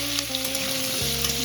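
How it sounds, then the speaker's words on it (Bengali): Potatoes sizzle and fry in a pan for aloo dum with peas. A steady, close crackle and hiss runs throughout with a faint tonal hum underneath, and no voices. "বন্ধুরা, এখানে ভাজা ভাজা হচ্ছে"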